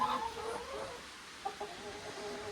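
Soft, quiet clucking from chickens in a stall, a few short murmured calls close by with little else around.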